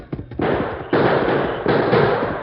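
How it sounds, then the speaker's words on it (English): A series of sharp bursts of gunfire in a gunfight inside an office, in an old radio drama, three loud cracks each trailing into a rough, noisy rumble that fills the short clip. "The explosion of gunfire"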